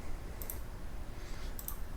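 A mouse clicks twice while working in CaDe Simu motor-control simulation software, two sharp, close, quiet clicks standing out from a low steady background hum.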